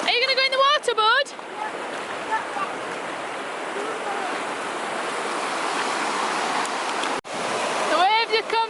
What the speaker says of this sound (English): The waves are coming, Elliot.